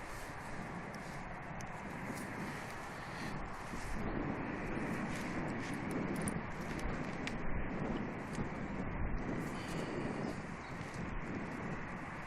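A Virgin Boeing 747 jet at Manchester Airport gives a steady, broad roar of engine and wind noise, sustained and moderately distant throughout, with no talk over it.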